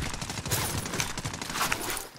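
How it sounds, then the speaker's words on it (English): Enemy gunfire crackles from under a bridge in Modern Warfare Warzone, with rapid automatic bursts that are moderately loud and steady across a couple of seconds. "MK is a guy shooting you from under the bridge to your right."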